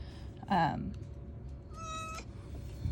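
A house cat gives one clear, close meow, followed a moment later by a shorter tonal call, over a quiet room background.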